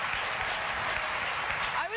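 Studio audience applause on a late-night talk show, a steady roar of clapping filling the two seconds, with a voice starting to speak over it at the very end.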